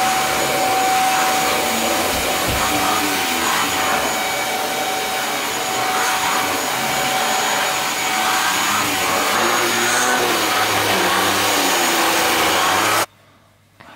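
A vacuum cleaner hoovering a floor at home drones loudly and steadily with a constant high whine, close by, then cuts off sharply near the end leaving a quiet hum.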